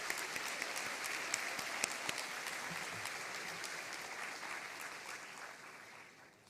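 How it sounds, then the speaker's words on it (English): Sustained audience applause for a graduating class of 2022 at a university opening ceremony, dense crackling clapping throughout that slowly fades toward the end. "Please join me in a round of applause for the class of 2022"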